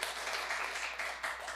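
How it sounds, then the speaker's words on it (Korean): A church congregation at a Korean Sunday worship service claps steadily in a dense, even round of applause, close and continuous without pause. "우리 식구님들께 격려의 박수 한번 부탁드리겠습니다"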